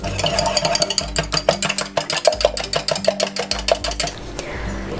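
Eggs whisked with salt and nutmeg in a bowl for a duck quiche filling, a steady rapid rhythm of whisk strokes clicking against the bowl, close and fairly loud, with no talking.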